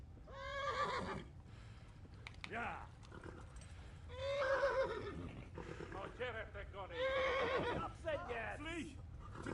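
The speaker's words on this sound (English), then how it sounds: "Oh, this horse is fast." A horse in the video game Kingdom Come: Deliverance gives several loud, shrill whinnies in succession over a low rumble of galloping hoofbeats.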